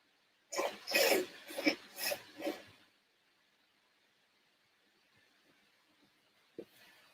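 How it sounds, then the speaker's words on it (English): A person blows their nose in several short, forceful honking bursts, then quiet with a faint sniff near the end. "Hold on, I need to blow my nose."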